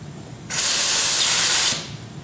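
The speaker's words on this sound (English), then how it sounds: "I'm going to spray my pattern." A steady, loud hiss of a 3M Accuspray paint spray gun spraying a pattern from 10 inches away, lasting just over a second, starting and stopping abruptly.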